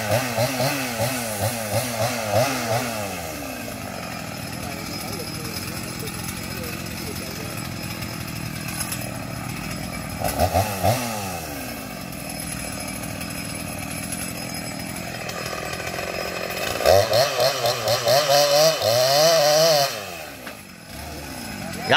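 A chainsaw cuts down two Xà Cừ trees beside a road. The engine revs and bogs repeatedly at middling distance, and people talk over it at times.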